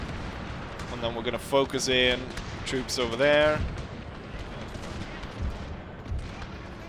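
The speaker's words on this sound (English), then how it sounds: "Currently we're firing tons of cannon shot at this one" Cannon shot and musket gunfire crack and boom from a Total War battle set in the Thirty Years' War, with a Habsburg army fighting, while someone narrates over the distant, scattered volleys.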